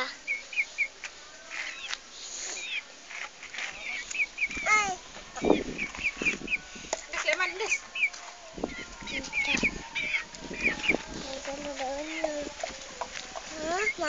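Chickens cluck and chirp in short bursts nearby while people talk over them.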